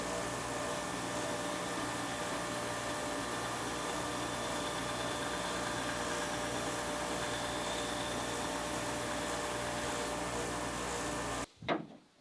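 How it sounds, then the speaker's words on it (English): A power sander runs on a wooden oarlock pad for a wooden boat, a steady loud whirring drone that holds unchanged before cutting off near the end, followed by a brief clunk and short rustle. "I should probably tackle that on a sander"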